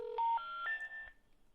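A sequence of telephone keypad tones as a number is pressed: about four or five short, clear beeps in quick succession, alone and fairly quiet.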